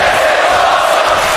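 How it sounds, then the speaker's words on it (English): Dense, loud crowd roar and chant from a WWE SmackDown wrestling video game arena, a steady wall of massed voices filling the whole moment with no break. "And the crowd chanting, "This is awesome.""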